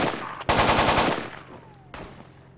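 Rapid burst of automatic gunfire in the tactical shooter game Project Reality, a loud close run of shots lasting about a second, then a single sharp report after a brief pause.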